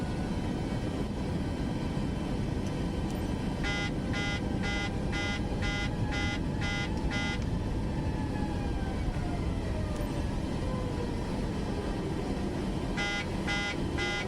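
A cockpit warning beeper in Microsoft Flight Simulator 2024 sounds in a rapid run of evenly spaced electronic beeps, stops, then returns in a shorter burst, over a steady airliner engine and cabin drone.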